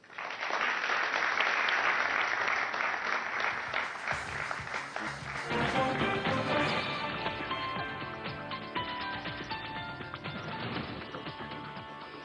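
Audience applause at a get-rich financial-markets event in India, a burst of clapping that swells early, then music comes in and carries on underneath as the clapping thins out.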